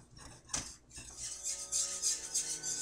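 A utensil stirs Marsala wine and chicken broth in a pan on medium-high heat, with a couple of soft scrapes followed by a steady low sizzle and bubbling as the liquid comes toward a simmer.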